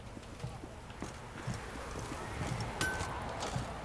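Roach, the horse in The Witcher 3, trots along with a soft, regular clip-clop of hooves under low ambient game sound, fairly quiet and steady.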